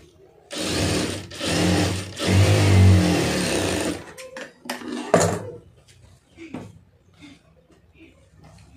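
A sewing machine stitches a blouse lining in a few loud continuous bursts over about four seconds, then gives way to clicks, fabric handling and a voice talking.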